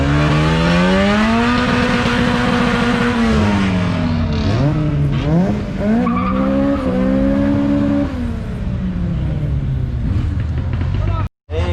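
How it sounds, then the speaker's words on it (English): A car doing a burnout at a night car meet, loud engine revving with pitch climbing and falling across gears, tires squealing and screeching under the roar, close and sustained, with crowd voices talking in the background. "This guy's about to do a burnout or something."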